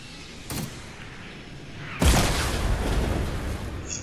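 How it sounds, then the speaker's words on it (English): Incoming rocket exploding in a video game: a faint distant thump first, then a sharp loud blast followed by a rolling, decaying rumble. "Incoming rocket. Rocket."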